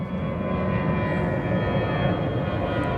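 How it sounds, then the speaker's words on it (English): Airplanes flying overhead produce a steady, broad engine roar that fills the whole moment at a constant level, with no voices over it. "Planes overhead."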